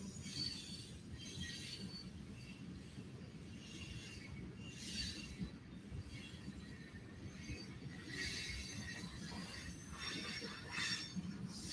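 A very long train rolls past with a steady low rumble of wheels and cars, overlaid by recurring high metallic squeals, continuous and moderately distant with no voices.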